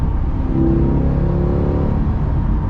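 A Corvette C8 engine drones at high speed on a California highway, a loud, steady low rumble with a sustained rising tonal hum, heard from inside the car.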